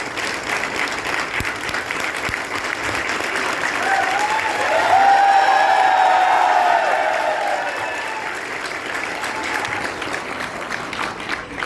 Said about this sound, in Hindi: ये हौसला बढ़ाने के लिए तालियां थी क्या मैडम?